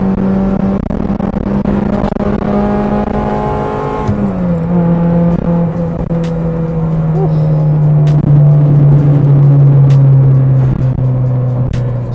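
An older JDM car's engine sustained at high rpm, heard as a loud, steady whine that holds a constant pitch, then drops and settles lower as the revs ease, close and continuous from inside the car.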